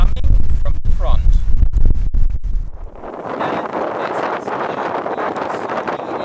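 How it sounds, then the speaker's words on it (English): Strong wind hits a RØDE VideoMic Pro head-on, first as heavy low rumbling buffets with sharp dropouts, then as a steady loud rushing roar for the rest of the clip. "This is how the RØDE VideoMic Pro sounds with the wind coming from the front."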